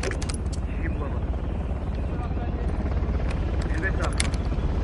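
A helicopter in the Uncharted video game throbs continuously with rotor chop and turbine whine, loud throughout, while someone talks over it.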